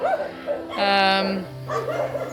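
A dog at a small, cramped dog shelter lets out one sustained, high yelp in the middle. Quieter sounds come before and after it, and a person is talking nearby.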